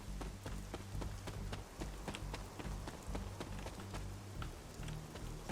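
Rain patters steadily in the video game Marvel's Midnight Suns, with a dense wash of drops broken by regular sharp taps like footsteps, over a low rumble.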